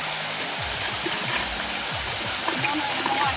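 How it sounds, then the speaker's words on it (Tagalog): Steady broadband rush of a river stream flowing over rocks, continuous and close throughout, with small splashes and gurgles, and a faint low voice briefly audible beneath the water. "Nandito ako ngayon sa ilog."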